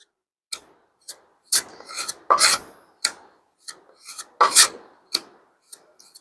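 Filler paste for furniture cracks being mixed by hand, giving a series of short, scraping rasps in an uneven rhythm, close by with no talking.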